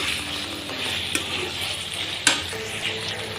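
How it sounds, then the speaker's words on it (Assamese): Potato pieces being stirred in a pan as they cook, a soft continuous sizzle with a couple of sharp utensil clicks against the pan, fairly quiet and close, no talking. "এনেদৰে লৰাই মই মিক্স কৰি লৈছোঁ।"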